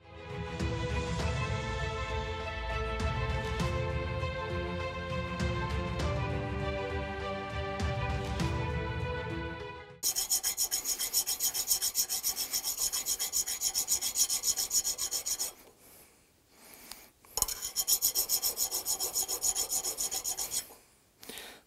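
Scrubbing a car starter motor part clean during clutch and gearbox work on a Skoda Octavia AGN: a steady, dense rasping that runs for about ten seconds with brief pauses, following a stretch of music.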